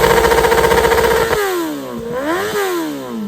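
A Kawasaki ZX10R superbike's engine revs hard and close, a fast rattling idle climbing into a high sustained scream, then dropping and rising again in two sharp throttle blips.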